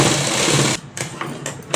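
A sewing machine stitching a pocket seam on ladies' pants runs in a loud, fast continuous whir, then stops and gives a few short bursts of stitching close by.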